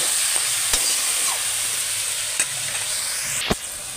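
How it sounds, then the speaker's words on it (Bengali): Spinach and potato fry with a soft, even sizzle in a pan, and a few sharp knocks and scrapes come as a utensil stirs them; close, with no talking. "এবার আমি একটু শাকটা দিয়ে একটু নেড়ে নেবো।"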